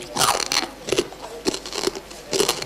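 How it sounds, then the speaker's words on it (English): A man chews and crunches broken glass from a bottle, giving sharp, brittle crunches in an uneven rhythm of about six bursts, loud and close. "And you can hear him chewing."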